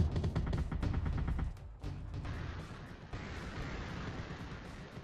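Anti-aircraft flak turret fire in the game Artificial Extinction, a rapid run of loud booming bursts that stops abruptly, followed by a softer, noisy rumble of distant detonations.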